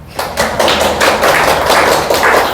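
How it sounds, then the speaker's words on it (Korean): A church congregation breaks into applause after a call to thank young worshippers, a dense, steady wash of many hands clapping together at close range, continuing evenly without talk. "박수 한번 합시다."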